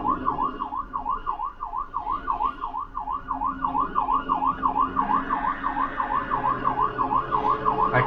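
An ambulance siren from a SAMU emergency service wails in a steady, rapid up-and-down yelp that repeats throughout, loud and close, with engine rumble beneath and no talking.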